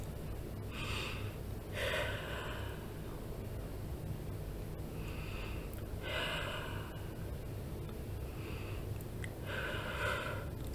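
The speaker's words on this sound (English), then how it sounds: "So just hold your hands out and take 3 deep breaths." Three slow, deep breaths taken during a guided peace-of-mind meditation, each an airy inhale and exhale that swells and fades with pauses between, close and fairly soft over a steady low background hum.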